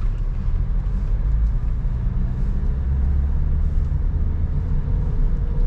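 Car engine revving up as throttle is applied from a standstill on a road near Kudus, a loud, steady low drone heard from inside the cabin with no talk.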